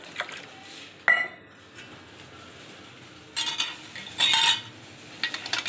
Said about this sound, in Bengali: কেটে জল দিয়ে ভালো করে এটা 2-3 বার ধুয়ে নেব